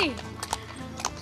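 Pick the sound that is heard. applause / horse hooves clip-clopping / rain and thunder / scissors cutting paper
horse hooves clip-clopping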